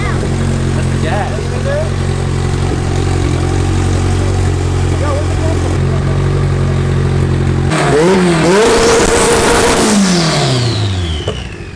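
A Honda EG street race car, an all-motor K24 hatch, holds a loud steady idle and then revs hard partway through, rising sharply and falling back, up close and continuous.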